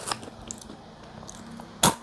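Crunchy peanut snack with a sweet, spicy and savory wasabi coating being chewed close to the mouth: a few soft crisp bites early, then one loud sharp crunch near the end, with no talk.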